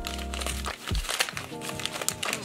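Cardboard and plastic packaging of an advent calendar box crinkles and crackles up close as it is handled and pulled at, a dense, continuous rustle with a few sharper crunches.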